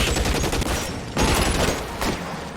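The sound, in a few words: Tommy gun firing in L.A. Noire video game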